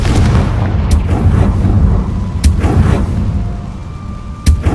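A Confringo fire spell explodes in the Hogwarts Legacy video game, a dense rumbling blast texture with sharp bursts near the start, middle and end, no talk.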